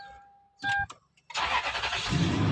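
Toyota Land Cruiser engine starting: a couple of short clicks and a brief whir, a pause, then the engine cranks and catches, settling into a loud steady running roar.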